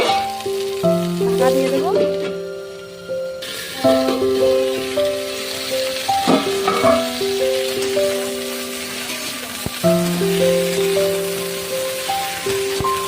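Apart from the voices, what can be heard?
cauliflower pieces frying in oil, sizzling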